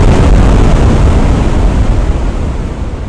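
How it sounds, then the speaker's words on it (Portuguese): An explosion sound effect for a fantasy battle scene with a necromancer's corpse explosion: a loud, dense roaring blast that stays heavy and rumbling and then slowly fades, heard alone without speech. "Uma explosão colossal engoliu o campo de batalha."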